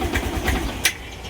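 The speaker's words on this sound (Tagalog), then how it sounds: "Ayan, palyado yung andar," Yamaha YTX 125 motorcycle engine misfiring as it runs: a close, uneven low putter with irregular pulses and a sharp pop near the end, with no talking.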